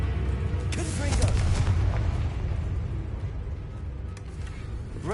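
In the Hogwarts Legacy video game, a Confringo blasting spell explodes with a deep boom and a crackling burst, followed by a rumbling fade, while a voice is faintly present.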